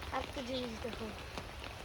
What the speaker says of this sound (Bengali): রাত থেকে এখন পর্যন্ত অনেক বৃষ্টি হচ্ছে।